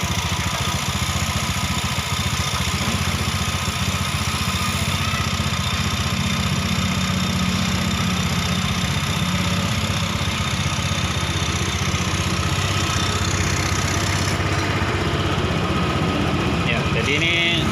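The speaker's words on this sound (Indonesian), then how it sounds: "ada suara-suara aneh di bagian mesin ya" A motorcycle engine idles steadily up close, its low rumble running throughout with a faint irregular ticking mixed in, a rough fault noise from the engine or CVT.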